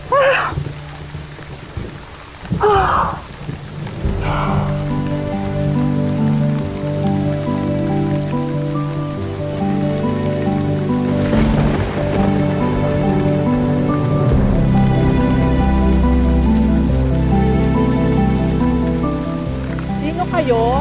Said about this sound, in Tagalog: Kapag tumila na yung ulan